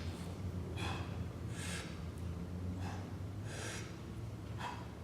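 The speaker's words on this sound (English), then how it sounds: "I'm simply going to breathe into the belly." Slow, deep belly breaths during a banded split lunge and press exercise, each inhale and exhale a soft breathy rush repeating in a steady rhythm, close to the microphone with no talking.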